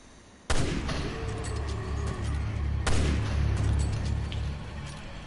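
Heavy rifle fire in a foggy video game, sudden loud booming shots with a long rumbling tail and a second report a few seconds later.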